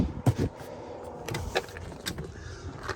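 The passenger seat of a Fiat Freemont folds and slides, heard as a few quiet clicks, clunks and rattles of the mechanism at close range inside the car, with no talking.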